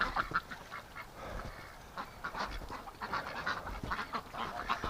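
Several ducks quack repeatedly in short, uneven bursts, close and moderately loud, among them a green-headed male mallard-type drake being pursued by females in winter.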